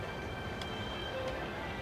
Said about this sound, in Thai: ใช้เดินทางรถไฟเซบุนี่แหละครับเนี่ย